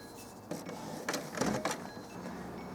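A Canon Pixma MG6150 inkjet printer prints a head alignment sheet, making faint mechanical whirs and a few sharp clicks and clatters as the paper feeds through.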